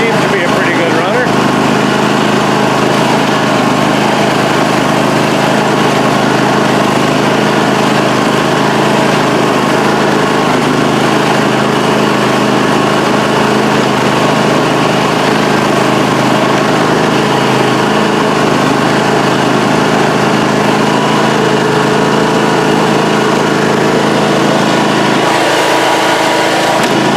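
A deckless Toro lawn mower engine, run after sitting for a couple of years, drones loudly and continuously at a steady idle, with a person talking over the running motor.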